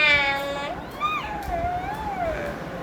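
A child imitates a cat, giving a few drawn-out, rising and falling meows near the microphone, with light background noise and no other talk.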